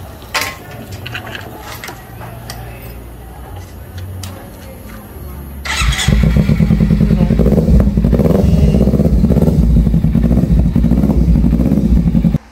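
A motorcycle engine starts up around the midpoint and settles into a loud, steady running note, after some quieter clattering and handling sounds close by.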